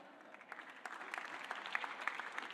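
Audience applause at a live business event, a dense spread of clapping that rises slightly and holds steady over the short stretch, moderately faint and heard from within the room.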